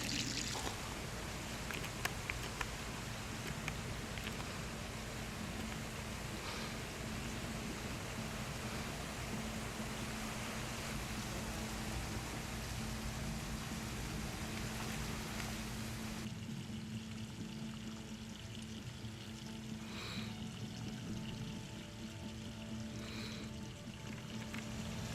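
Water runs steadily from a concealed hose into a small water feature in a backyard chicken yard, a constant close wash of flow that continues for the whole stretch with no talking.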